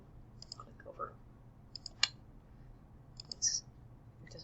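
A few light computer mouse clicks, soft and sparse, spaced unevenly over quiet room hiss with faint sounds in between.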